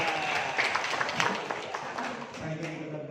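Audience applause at a school workshop at SMAN 1 Gondang, a soft, steady patter of clapping from a room of people that fades slightly toward the end.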